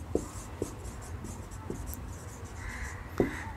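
Chalk or marker taps and scratches on a classroom board, with a few sharp, close strokes scattered over a steady room hum.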